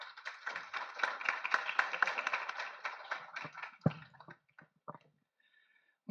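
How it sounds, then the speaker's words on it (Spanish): Audience applause at a university inauguration event, a dense patter of many hands clapping that thins out into a few scattered claps and then stops. "Un aplauso para Iván, por favor."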